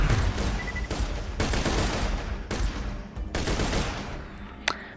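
Rapid automatic gunfire from the Unkempt Harold weapon in the video game Borderlands: The Handsome Collection, loud dense bursts in several volleys separated by brief gaps.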